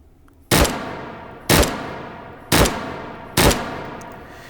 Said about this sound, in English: It almost sounds like one shot, but it's actually 3 shots going out at the same time.